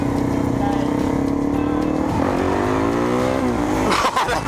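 Two supermoto motorcycles ride tandem wheelies, their engines loud and close as they rev and climb in pitch, with a steady roar that swells near the end and no talking over it.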